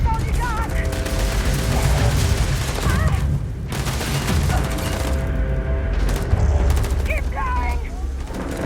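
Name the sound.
gunfire from enemies in video game Starfield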